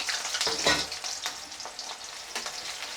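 About 200 grams of chopped onion frying in a pan, with a soft steady sizzle and a few scraping stirs, one louder near the start, quiet and without speech.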